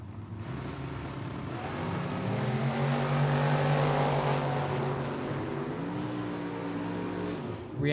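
Outlaw and Dragster drag racing cars launch down the strip at the Cactus Clash 2025 at Tucson Dragway, making a loud, sustained engine roar that swells and shifts pitch as they race, with no talking.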